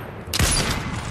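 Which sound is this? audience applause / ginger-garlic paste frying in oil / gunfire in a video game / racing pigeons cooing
gunfire in a video game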